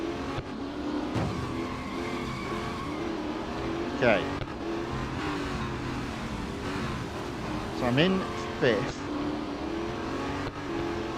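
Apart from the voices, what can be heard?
racing cars in video game Real Racing 3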